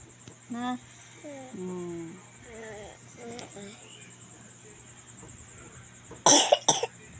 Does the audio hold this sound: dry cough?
yes